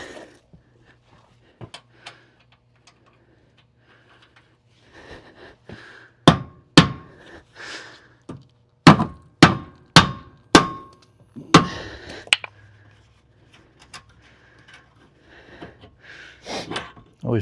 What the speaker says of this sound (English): A little hammer for a tappity tap.